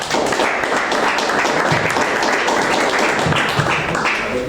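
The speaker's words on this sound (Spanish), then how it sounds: "Un aplauso para ella." Applause from an audience at a poetry reading in Libardón, greeting a poet from Chile before her recital; dense, steady clapping fills the whole stretch at full volume.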